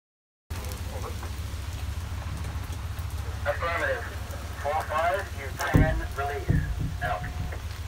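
Rain falls steadily during a tank trek, a constant hiss that starts abruptly and holds throughout, with people talking over it.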